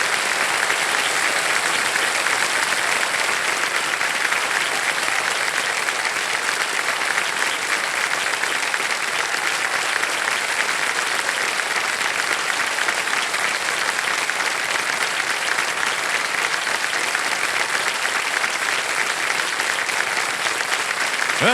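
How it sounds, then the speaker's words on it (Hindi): A studio audience applauds steadily on the KBC game show, a sustained, even wash of clapping that stays loud and unbroken for about twenty seconds. "ताली बजती रहे देवियों सज्जनों।"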